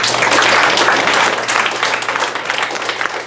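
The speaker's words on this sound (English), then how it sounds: "Please give them a warm applause." A crowd claps warmly for the Dolores Huerta Foundation staff at an MLK Jr Freedom Center community gathering, a loud, thick wash of applause sustained throughout at close range.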